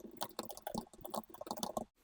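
Rapid keyboard typing, a quick run of close, crisp key clicks for nearly two seconds before a sudden stop, entering a prompt into ChatGPT.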